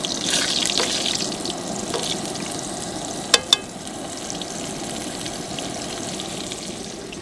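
Chicken frying in a hot pan at a high-altitude campsite, giving a steady close sizzle and crackle with a couple of sharp clinks midway, and no one speaking.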